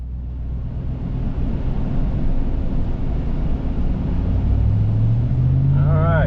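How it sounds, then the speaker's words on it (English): A 2019 Ram 1500 pickup with muffler deleted and straight pipe, its raspy exhaust droning loudly at idle and then revving up near the end, close by. "it's got that raspy tone to it whenever you rev it up"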